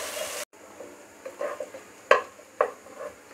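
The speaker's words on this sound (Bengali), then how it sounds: "পেঁয়াজটা একটু ভেজে নরম করে নিব, একদম ব্রাউন করব না" Sliced onions frying in a pan, a quiet background sizzle broken by scattered stirring scrapes and two sharper metallic knocks of a spoon against the pan, close and without talk.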